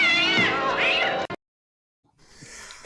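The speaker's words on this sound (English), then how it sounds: "Holy cats! A cat!" A cat gives one loud, close, drawn-out meow that wavers in pitch for over a second, then cuts to silence before quiet background noise returns.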